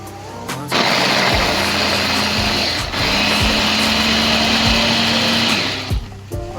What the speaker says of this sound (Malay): kita blender cili pula